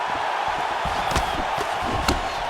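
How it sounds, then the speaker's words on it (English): Steady roar of a UFC 4 video game arena crowd, with sharp swells reacting to strikes and a couple of thudding impacts rising out of the continuous noise. "you hear the crowd react every time they come together"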